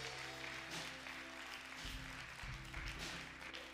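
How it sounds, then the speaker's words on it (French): Audience applause in a church service setting, a steady dense wash of clapping lasting throughout, moderately loud with no voices over it. "Donne-lui une bonne main d'applaudissement."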